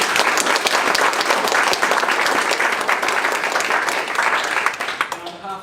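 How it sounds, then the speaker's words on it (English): An audience at a Diabetes New Zealand Auckland technology evening gives the speakers a long, full round of applause, dense and close, tapering off near the end as a voice begins. "A big round of applause for them."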